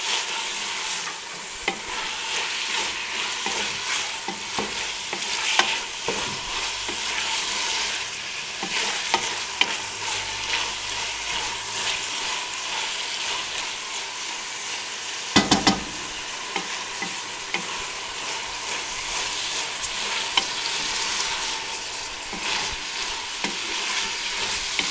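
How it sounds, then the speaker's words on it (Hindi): Potatoes and moongre roast in spices in a pan with a continuous loud sizzle and frequent stirring scrapes, close up, with no one talking. "जितना अच्छे तरीके से मसाले में मूंगरों को भून लेंगे उतना ही अच्छा टेस्ट आएगा इनका।"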